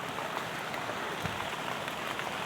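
Steady rain falls over wet countryside during mushroom foraging, a soft, even hiss of drops with faint scattered patters. No voices are heard.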